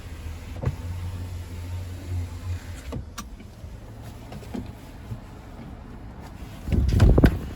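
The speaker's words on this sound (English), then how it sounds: "this button right here, which is going to control the window back here, the sliding window" The power rear sliding window motor of a 2025 GMC Sierra 1500 SLT crew cab with a 5.3 V8 gives a low, steady whir inside the cabin for a few seconds, broken by a few clicks and a soft thump.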